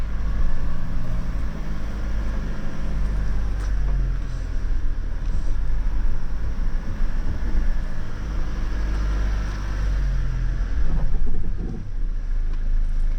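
A 2025 Toyota LandCruiser Prado Altitude driving off-road, its engine holding a steady low rumble and drone that swells slightly under throttle, heard from inside the cabin with no talk.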